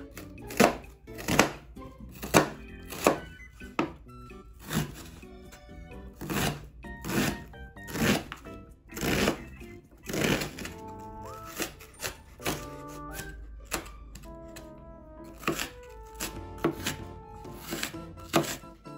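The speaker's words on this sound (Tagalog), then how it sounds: "i-chop lang natin itong sibuyas" A knife chops an onion on a cutting board in crisp, close, uneven bursts of rapid knocks separated by short pauses, with no talking.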